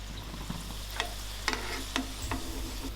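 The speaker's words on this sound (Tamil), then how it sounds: "அடுத்தடுத்த பேட்சையும் நம்ம இதே மாதிரி போட்டு பொரிச்சு எடுத்தாச்சுங்க" Wheat flour breakfast batches fry in hot oil with a steady, close sizzle, broken by a few sharp clinks and taps of a utensil stirring the pan.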